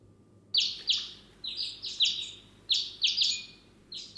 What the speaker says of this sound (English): So the chirping bird sound might be doubled.